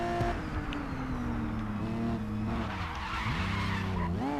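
Race car in GRID Legends skidding under hard braking, a loud sustained tire squeal with sweeping, bending tones over a constant engine roar that runs the whole time.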